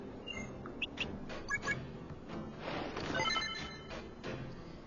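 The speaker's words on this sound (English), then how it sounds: "And that's my phone going off." A mobile phone chirps with short, high electronic ringtone or alert tones in a few bursts, fairly faint beneath a murky, noisy game soundtrack.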